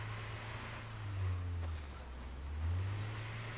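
A car engine hums low in State of Decay 2 as the vehicle drives over rough valley terrain, the drone swelling and easing twice like gentle revs, with no talking.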